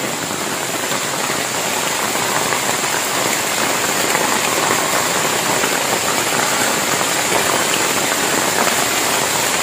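Heavy rain pours without pause onto a half-roofed camp shelter in a forest in Riau, a dense, loud, steady hiss of drops on the roof and surrounding foliage.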